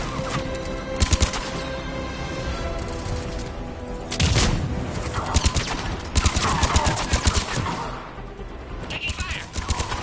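Bursts of gunfire from a Mass Effect 3 firefight against Cerberus forces, sharp volleys repeating through the clip at close range, with a loud cluster near the middle and scattered shots under game voices.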